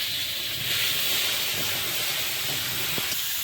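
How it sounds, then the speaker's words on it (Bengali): Cauliflower pieces fry in hot fish oil in a pan, a steady loud sizzling hiss up close with occasional sharper pops of spattering oil. "মাছের তেলে কপিগুলো ভেজে নিচ্ছি"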